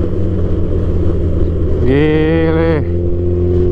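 A large intercity bus engine revs up loudly on a Yogyakarta–Surabaya run, its pitch rising briefly in a strong roar over steady road rumble, with a voice calling out.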